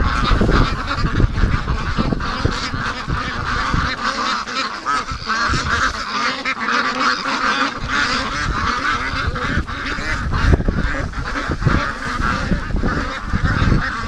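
A flock of free-range ducks and geese honks and quacks loudly and continuously close by, many overlapping calls with no talk.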